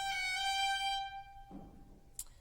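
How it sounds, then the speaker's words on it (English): A slow Cape Breton mordent ornament on solo fiddle, one bright sustained bowed note with a brief wiggle, quiet and alone, ending in a faint rustle. "a characteristic Cape Breton ornament is called, in classical music, often called a mordant,"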